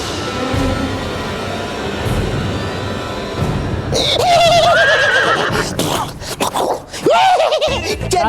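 A horse whinnies loudly and close by, a rising-and-falling neigh repeated twice over a noisy, rumbling background.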